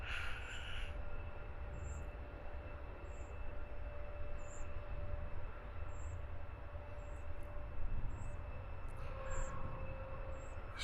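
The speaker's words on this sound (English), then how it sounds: "This jet to A321neo will be heading off to Mahon." An Airbus A321neo jet at Luton Airport gives off a broad, steady engine roar at a moderate distance, sustained and even throughout, with faint high whistles and no talk.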